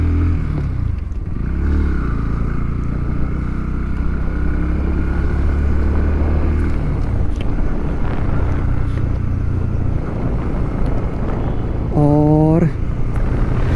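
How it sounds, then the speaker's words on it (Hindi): A 2023 Bajaj Pulsar NS160 BS6 Phase 2 motorcycle is ridden on a road, its engine giving a steady loud drone with wind rush. A rider talks over it and a brief horn-like tone sounds near the end. "अभी मैं राइड कर रहा हूँ NS160 को, और अभी बताता हूँ कि किस तरह से ये इसका परफॉर्मेंस रहेगी।"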